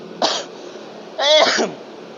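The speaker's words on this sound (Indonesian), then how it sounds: "gue sampai batuk nih, maaf banget ya" Two quick coughs close to the listener, a short one followed a second later by a longer, raspier one.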